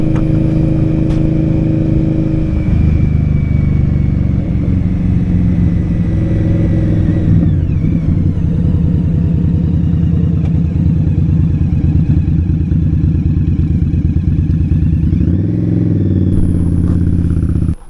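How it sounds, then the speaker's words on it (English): A motorcycle with a Vance & Hines aftermarket exhaust idles with a deep, throaty exhaust rumble, loud and close, with a brief rev near the end; no one speaks. "This has the Vance & Hines exhaust, so it's got a pretty good rumble to it"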